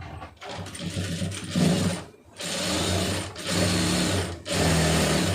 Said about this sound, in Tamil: திருப்பிட்டு கரெக்டாக அந்த ஓரத்தை தையல் போட்டுருங்க